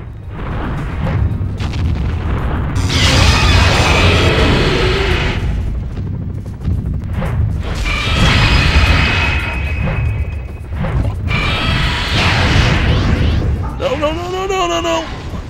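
Deep booms and crashing blasts from weapons fire in Godzilla: Save the Earth, rolling in repeated heavy waves over a steady rumble, with a voice talking throughout and a warbling tone near the end.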